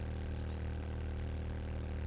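A motorbike engine idles in the survival video game 7 Days to Die, a steady low rumbling drone held without change throughout.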